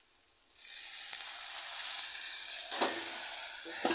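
Spices hit a hot pan and a bright, loud sizzle starts abruptly, settling into a steady hiss with a brief surge as water is added, close and continuous, with no talk.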